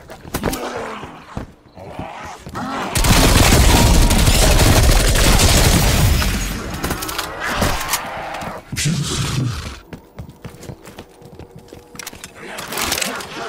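Rapid gunfire erupts in Call of Duty Cold War Zombies, a loud sustained burst of automatic shots lasting a few seconds. Scattered game sound effects and a short voice line come before and after it.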